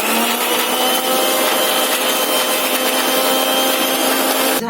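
Mixer grinder running steadily, grinding coconut, chilli, garlic, ginger, mint, coriander, sugar and salt, a loud continuous whirring grind with no speech, cutting off abruptly at the end.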